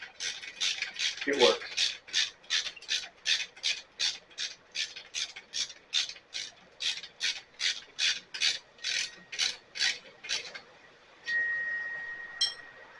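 The handle of a VEVOR hose reel cart is tightened with a long run of rhythmic, squeaky ratcheting strokes, about two per second, close and crisp, followed by a brief spoken remark and a short high squeal.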